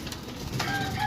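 A golden pigeon gives a short call, a brief tonal bird sound rising over steady background noise in the second half.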